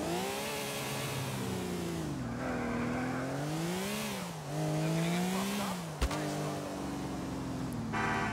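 A car engine in the PC racing-and-driving game GTA IV (2008) revs up and down through several gear changes, its whine rising and falling steadily and loud, with a short knock near the end.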